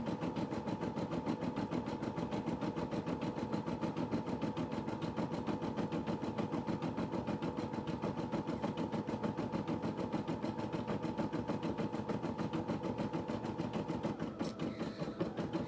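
An embroidery machine stitches a faux smock design in a re-positional hoop, with a steady, fast mechanical whir and a rapid, even needle rhythm that runs continuously and alone, plus a brief faint click near the end.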